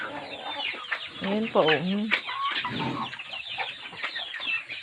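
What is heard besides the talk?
pet chickens clucking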